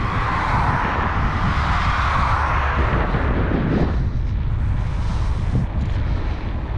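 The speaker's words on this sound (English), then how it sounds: "it's a little bit windy, not so bad" Steady wind buffets the microphone throughout a summer bike ride in Upper Bavaria, a continuous broadband roar with low rumbling gusts and no speech.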